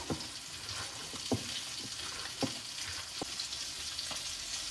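Onion fritters sizzle steadily in a frying pan, a dense hiss of oil broken by a few soft clicks and stirring taps, close and moderately quiet with no talk.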